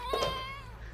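A cat gives a single drawn-out meow, close and clear, lasting about a second with a rising then falling tone.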